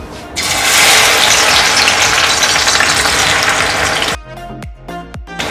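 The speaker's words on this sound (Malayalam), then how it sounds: "ഇനി ഞാൻ വെണ്ടയ്ക്ക അതിനകത്തിട്ട് വറുക്കാം." Okra dropped into hot oil in a home kitchen, a loud continuous sizzle and crackle that stops abruptly near the end, followed by a few sharp clattering knocks.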